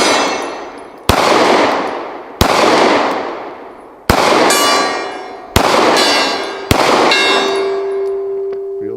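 Six sharp metallic clangs of bullets hitting steel plate targets ring out one after another, each loud impact leaving a long bright ringing tail that slowly fades.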